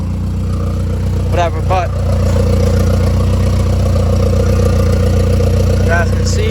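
A Honda Civic with a new turbo idles while warming up, a loud, steady low rumble that runs the whole time while someone talks briefly over it.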